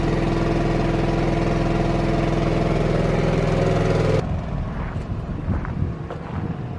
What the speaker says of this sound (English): It's probably about the same sound output level as a Honda EU2000 or any other small portable inverter style generator.